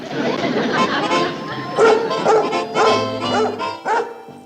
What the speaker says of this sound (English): This sounds like the bark of a happy dog.